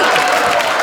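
Audience applause in a live Marathi comedy show, a dense, loud, steady wash of clapping filling the whole moment, with faint crowd noise mixed in.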